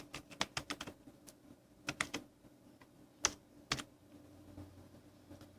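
Names being typed into an Excel spreadsheet on a computer keyboard: quick bursts of close, crisp key clicks with short pauses between words, a few harder taps standing out, and no voices.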